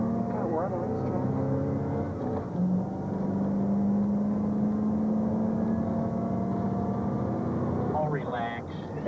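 A race car engine revs on the Daytona track, a sustained droning hum that rises and holds steady, with a person speaking briefly over it.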